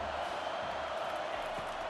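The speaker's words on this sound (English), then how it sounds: "Man, this crowd really affecting the football game." A home crowd cheers steadily in a College Football 25 stadium, with a continuous loud roar and no breaks.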